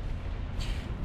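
A tank's main gun fires in War Thunder while driving a TAM 2C, a single low, rumbling boom over steady engine noise, with a brighter crack near the middle.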